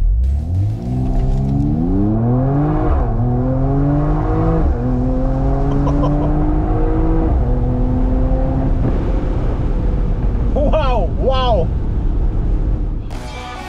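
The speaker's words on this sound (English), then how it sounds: "Of course, being an AMG, it is loud and enjoyable for those who want their cars to sound nice." A Mercedes-Benz E53 AMG Cabriolet accelerates hard, its loud engine note climbing through several upshifts before a couple of sharp revving bursts near the end.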